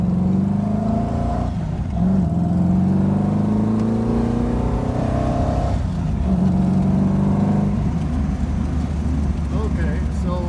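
Steady engine drone of a Ferrari 250 GT California being driven, with rising and falling pitch through gear shifts, heard from inside the car under someone talking.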